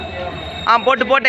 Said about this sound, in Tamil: இப்போ நம்ம ட்ரெயின் ஏற போகிறோம். அடிச்சு போயிட்டுருக்கு